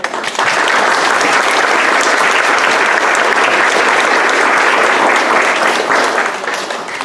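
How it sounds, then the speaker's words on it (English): Loud sustained applause from an audience at a school district board meeting fills the room, steady dense clapping that holds for several seconds before easing slightly at the end. "Huge round of applause for that."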